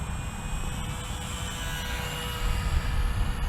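A HobbyZone Champ RC airplane passes overhead on a flyby, its small electric motor giving a steady whirring drone that swells slightly louder toward the end, with wind noise underneath and no talking.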